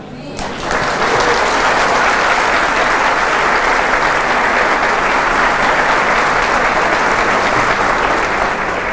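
Audience applause at a Catholic charismatic renewal talk, a loud, dense and sustained wave of clapping that swells quickly and holds steady throughout with no speech over it.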